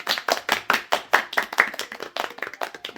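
A small group claps on a French game-show set, each clap distinct and sharp, forming an uneven rapid rhythm at moderate volume with no talk over it.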